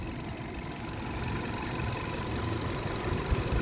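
The 1.2 engine of a 2020 Hyundai Grand i10 Nios automatic idles smoothly, a low, steady hum with slight vibration that holds close and quiet for a few seconds, with no talk.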